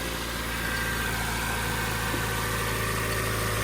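A car engine idles at high RPM, a steady, continuous hum with a low throb that holds unchanged from start to end and has no voices over it.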